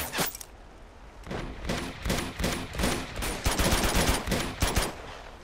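Gunfire in the action game Uncharted 2, rapid bursts of shots in quick succession, fairly loud and close, forming a steady rattling fusillade with brief gaps.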